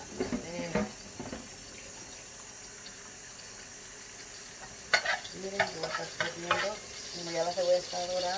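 Onions frying in a pan while meat for cannelloni is being prepared, giving a soft sizzle with stirring and scraping clatter, plus brief bursts of nearby speech-like sound.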